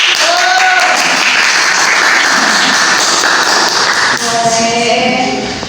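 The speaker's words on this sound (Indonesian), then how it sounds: "coba tepuk tangan buat diri sendiri karena tadi udah berani" A high school class claps for themselves during a lesson, a short burst of steady group clapping under teacher's speech, with a brief pause then more talking over the fading claps.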